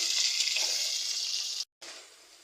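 Diced potatoes and soybean chunks hiss in hot oil in a pan as they are stirred, a steady close sizzle that cuts out abruptly for a moment and then resumes more quietly.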